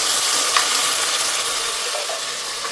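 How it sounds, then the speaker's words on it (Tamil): Ginger garlic paste fries with onions in a pan for biryani, giving a steady, loud sizzling hiss with a faint stirring scrape. "இஞ்சி பூண்டு பேஸ்ட் வந்து ரெண்டு ஸ்பூன் போட்டுக்கலாம்"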